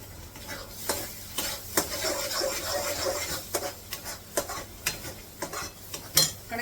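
Hot oil spattering and sizzling in a cooking pan while preparing stuffed brinjal, a crackling hiss with sharp pops and clinks of a utensil against the pan, fairly close and continuous.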